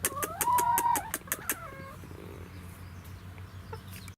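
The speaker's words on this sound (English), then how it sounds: "So that's the chickens." Chickens on an allotment clucking in a quick burst of sharp, close squawks and calls that fade after about two seconds, leaving faint background noise.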